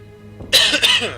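A single short cough, close and fairly loud, with a harsh burst that breaks into two or three quick pulses.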